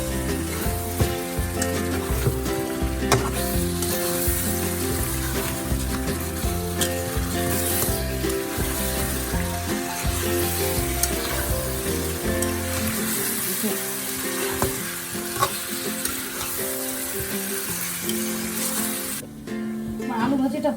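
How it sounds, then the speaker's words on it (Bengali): Potato bhaji sautéing in a pan during Bengali home cooking, a steady sizzle with scraping stirring strokes, all beneath continuous background music. "ভালো করে নেড়ে এটা আমি এখন কষাবো অনেকক্ষণ।"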